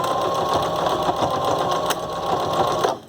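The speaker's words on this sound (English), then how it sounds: "I can sew over the elastic and the tie all in one go." A sewing machine stitches through elastic and a bias tape fabric tie for a face mask in one continuous pass, a loud, close, steady whirring hum that stops abruptly at the end.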